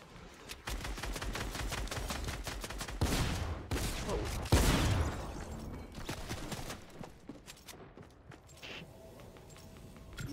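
Rapid bursts of tactical SMG fire from a Fortnite Season 10 match, a steady stream of sharp repeated shots filling most of the stretch with a few heavier flurries partway through, thinning into scattered pops near the end.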